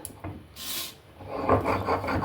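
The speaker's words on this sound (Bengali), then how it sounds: "এবার আমি এটাকে শিলনোড়াতে বেটে নেব।" Chana dal being ground dry, without water, on a traditional stone grinding slab (shil-nora), giving rough rasping rubs of stone on stone, one loud scrape burst then steady rhythmic grinding strokes close up with no talk.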